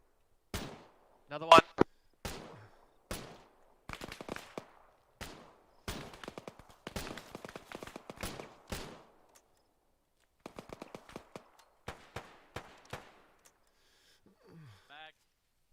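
Gunfire in the military game Arma 3 comes as sharp, isolated shots and short bursts spaced across the stretch, crisp and fairly close, with players talking briefly between them.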